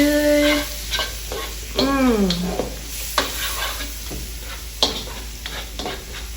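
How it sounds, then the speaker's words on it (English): Vegetables for a stir fry sauté in a pan with a steady close sizzle, broken by a few sharp scraping stirs and utensil knocks. "I'm gonna let this saute really good."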